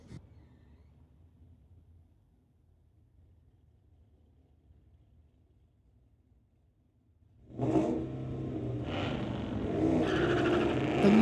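At a drag strip, a 2003 Mustang and a 1969 Dodge Dart launch after a quiet lull, their engines roaring up loud and close with rising revs and no talk.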